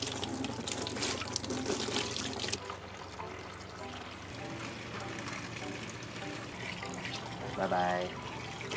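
Water pours and splashes steadily for several seconds, close by, with voices talking softly in the background.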